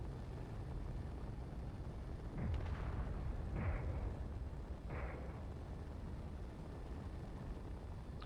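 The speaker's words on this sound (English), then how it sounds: "Missiles are away." Missiles launching in Space Engineers make three rushing whooshes a second or so apart over a low, constant rumble, fairly faint overall.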